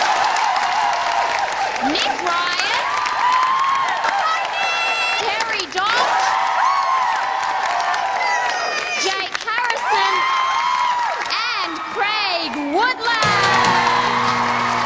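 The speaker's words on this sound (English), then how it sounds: "can I please have a big round of applause" Loud crowd applause with cheering and whoops runs throughout, overlaid by a voice speaking over the noise.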